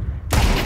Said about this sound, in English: Why was there two headshot sounds?